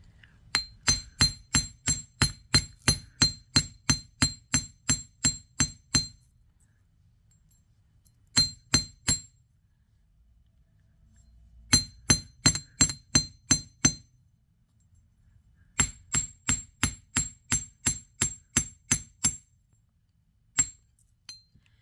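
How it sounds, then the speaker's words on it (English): Sharp metallic strikes of a hammer flattening the curves of jewelry wire links on a steel bench block, coming in quick rhythmic bursts of a dozen or so blows with short pauses between runs, close and clear with no talking. "Well, it says hammer the curves is what it says."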